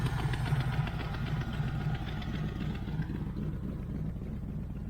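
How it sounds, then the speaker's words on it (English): A 1980 Camaro Z28 V8 idles steadily on stale old gasoline with a low, continuous rumble, fairly close and unbroken, with no voices over it. "I think it's running on the old gas."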